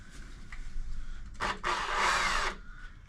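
Power drill boring a larger hole in the body of a campervan during a conversion, a sharp whining burst of about a second after a brief rev, set against low background hum.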